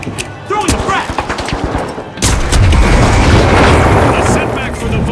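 In The Finals, a frag grenade goes off as a loud boom with a deep rumbling tail, coming after a burst of rapid gunfire and under an excited announcer voice.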